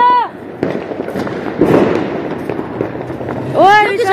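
Diwali firecrackers and fireworks going off outdoors, several crackling bursts and pops with whistling streaks at the start and end, mixed with people talking.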